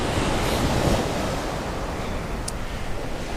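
Waves wash in at Great Yarmouth's Golden Mile beach as a steady, broad roar of surf, mixed with some wind buffeting the microphone.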